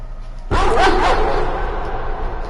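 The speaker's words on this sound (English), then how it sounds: "Dogs appearing from nowhere" A dog in the horror game Layers of Fear: Inheritance lets out one sudden bark that echoes and fades, following a near-silent moment.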